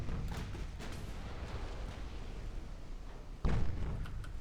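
Torpedo hits on an enemy warship in the naval battle game Ultimate Admiral: Dreadnoughts: a low rumbling battle ambience with a few muffled distant thuds, then one heavy booming impact near the end.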